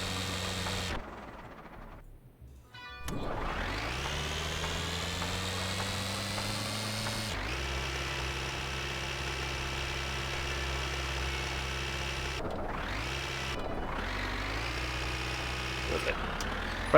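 A tractor's diesel engine in the video game My Winter Car, a steady low rumbling idle that cuts out, restarts and revs with rising and falling pitch, continuous and fairly close.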